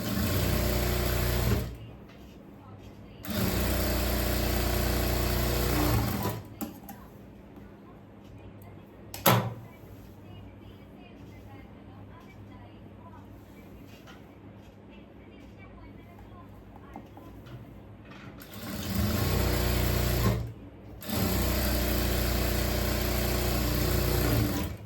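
A sewing machine stitches the back tuck of a kurti in two loud bursts of rapid whirring, separated by a long quieter gap with a sharp click. Someone speaks in between.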